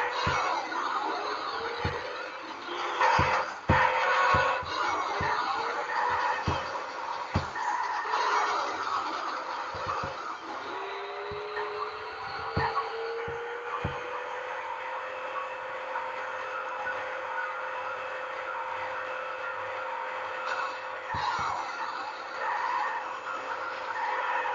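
Cars racing and skidding in the video game Asphalt 2, a continuous engine drone with scattered sharp clicks and screeches, moderately loud and steady throughout.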